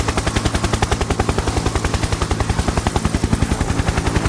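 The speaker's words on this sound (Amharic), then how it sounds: "የሄሊኮፕተር ድምፅ፣ የብረት ወፍ።" A helicopter flies in a war documentary sound effect: a loud, close, continuous rapid rotor thumping beats evenly for several seconds, then stops abruptly.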